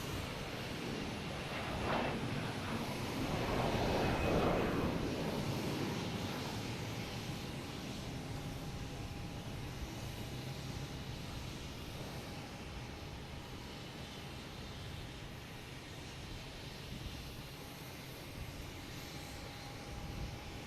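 Aircraft engines at Boston Logan Airport, a steady distant roar that swells slightly early on and then holds as a continuous rumble with a faint tonal whine.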